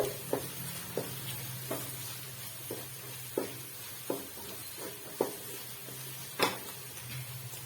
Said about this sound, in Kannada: ಚೆನ್ನಾಗಿ ಫ್ರೈ ಆಗಬೇಕು, ಹಸಿ ಸ್ಮೆಲ್ ಎಲ್ಲ ಹೋಗ್ಬೇಕು. ಶುಂಠಿ ಬೆಳ್ಳುಳ್ಳಿ ಪೇಸ್ಟ್